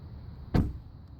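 A 2016 Maserati Ghibli S Q4 door shutting once with a single solid, close thump over a quiet, steady background hum.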